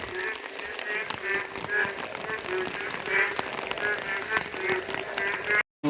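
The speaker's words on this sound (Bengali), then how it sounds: "ব্যাঙে ডাকছে" Frogs croak during monsoon rain in a village, their repeated rhythmic calls layered over a steady patter of rain, fairly close, with a person speaking at times.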